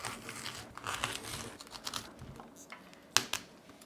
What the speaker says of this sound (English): All right, and then I'm gonna cut the core.